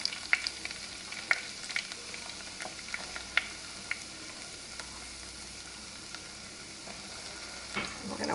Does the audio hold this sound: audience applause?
no